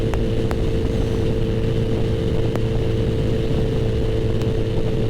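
A 2021 Kawasaki ZX-14R motorcycle cruising at high speed, a steady loud engine drone mixed with heavy wind roar, continuous and close throughout with no talk.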